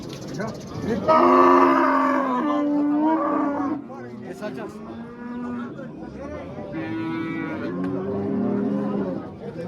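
Cows and calves at a livestock market in Gurlan lowing in long, loud, drawn-out moos one after another, with people talking faintly in the background.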